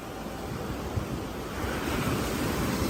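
Surf rolling onto a beach on the southern coast, a steady broadband wash that swells slightly louder toward the end, with some wind buffeting the microphone and no voices.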